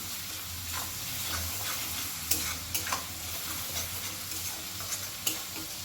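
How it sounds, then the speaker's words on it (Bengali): Onion and garlic stirred and fried in a pan for a Bengali hilsa dish, a steady close sizzle with scattered scraping clicks of a spoon against the pan, no voices. "পেঁয়াজ রসুন খুব ভালো করে কষিয়ে নিয়েছি"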